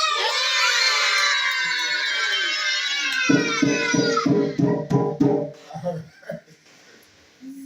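A crowd of children screams and shouts loudly for several seconds, then breaks into rhythmic chanted bursts and scattered voices.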